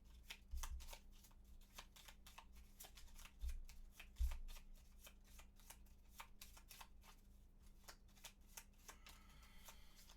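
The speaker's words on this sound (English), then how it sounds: "The guards, which have to get their deck shuffled again" A deck of Gloomhaven board game cards being shuffled, with repeated crisp riffling bursts that stay close and fairly quiet against a low steady hum, and no talking.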